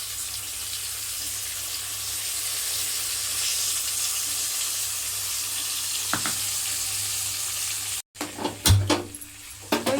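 Tamarind puliyogare mixture frying in a pan, giving a steady loud hiss for about eight seconds that cuts off suddenly and is followed by a few clattering knocks.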